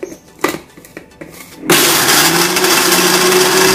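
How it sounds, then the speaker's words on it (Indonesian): A kitchen blender crushing Oreo biscuits for a cheesecake pudding starts after a few soft clinks and knocks, then runs at a loud, steady whirring roar to the end. "Kemudian kita blender lagi."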